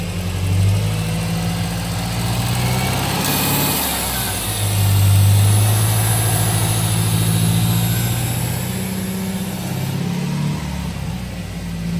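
A Subaru Impreza 2.5L automatic engine runs steadily with a low rumble in reverse gear, the revs rising and holding briefly before easing back. No voices are heard over the motor.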